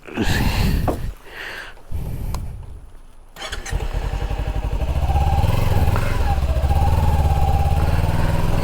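A superbike motorcycle engine fires up after a few seconds of noise, then settles into a loud, steady, throbbing idle close to the microphone.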